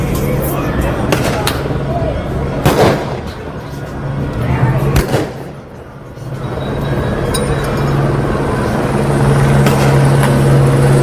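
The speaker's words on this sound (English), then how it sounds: "The police are taking fire and they're firing back." Gunfire at a Los Angeles street protest, where police are exchanging shots: a few sharp, loud bangs rise out of a dense outdoor din of crowd noise and voices.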